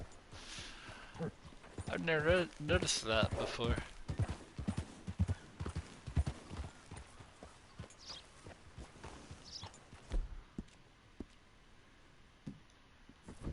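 Horse hooves clip-clop in the Red Dead video game, a run of close hoof strikes mixed with snorts and tack sounds, while someone talks intermittently over them.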